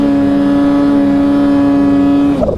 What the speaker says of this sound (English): That blow off valve.